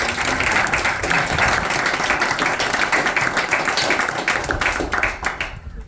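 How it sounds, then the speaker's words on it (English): A crowd claps steadily for a housing partnership board at an event showcasing a new home in Sister Bay, Door County. The thick, even applause runs for several seconds before thinning and fading at the end. "And I want to give that whole board a round of applause."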